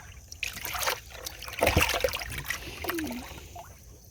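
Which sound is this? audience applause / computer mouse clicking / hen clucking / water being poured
water being poured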